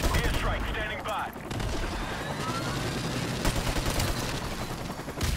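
Dense, continuous M14 rifle fire and battle noise fill a game match, with constant crackling shots and rumble close by, and no clear pauses.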